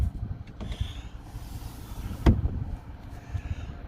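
The power sunroof of a 2017 Infiniti QX80 runs with a faint, thin motor whine over low cabin rumble, then closes with a single solid thunk.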